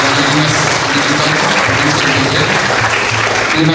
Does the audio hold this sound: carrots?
no